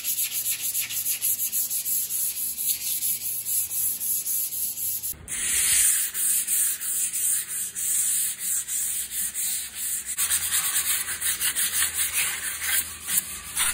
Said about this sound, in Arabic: هستخدم صنفرة رقمها 100 خشنة وابدأ ازيل الصدى